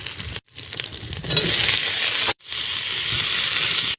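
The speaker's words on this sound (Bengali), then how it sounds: "ফুলকপি আলুটা ভালো করে ভাজা ভাজা করে নেবো।" Cauliflower and potato pieces sizzle and crackle in hot oil in a pan, a steady close frying hiss broken by two brief silent gaps, with no talking.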